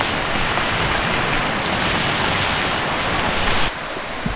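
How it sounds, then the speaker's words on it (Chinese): Steady heavy rain falls on a wet mountain hiking trail in Yangmingshan, a dense, even hiss close around the listener with no voices, easing slightly near the end. "雨越下越大。"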